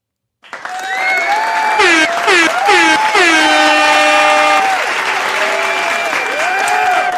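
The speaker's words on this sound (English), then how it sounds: "Some claps for you." Applause from a livestream audience follows thanks to named supporters, a steady clapping wash under several synthetic horn and alert tones that rise and fall across the clip.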